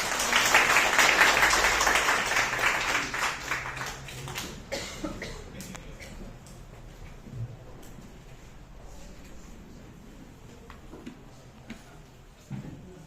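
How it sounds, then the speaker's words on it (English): A workshop audience on National Entrepreneurship Day applauds to welcome a guest speaker: a loud burst of clapping for about four seconds that fades into scattered claps, shuffling and a few coughs in a large room. "Please join your hands for welcoming Mr. Hassan Al-Mehdi with a round of applause"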